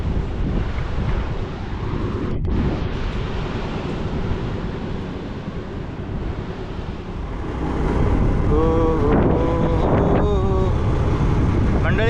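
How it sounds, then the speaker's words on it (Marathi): Steady roar of sea waves washing the Konkan shore mixed with wind buffeting the microphone, swelling louder near the end as a voice briefly speaks. "आपण डोंगरातनं आता खाली आलो आहे आणि एकदम समुद्राच्या जवळ आहो हा बघा समुद्र"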